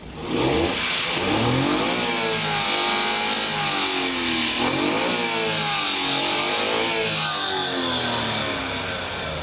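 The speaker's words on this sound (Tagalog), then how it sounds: "Ganyan ka ganda ng andar natin." A custom mini van's 3-cylinder inline all-aluminum engine runs and revs up close, a steady, strong mechanical drone rising and falling in pitch for about nine seconds with no talking.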